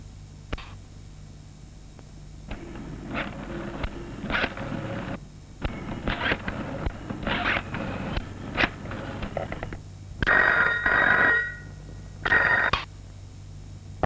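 A telephone rings twice in a Hindi film scene. The two short, bright electronic rings come near the end, after scattered soft knocks and handling noises over a low background hum.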